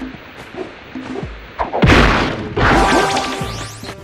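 Punch and spin kick strikes landing on enemies in the Jak and Daxter video game, a run of loud, punchy whacks and crashing impacts over a busy game soundtrack, with a heavy burst in the middle.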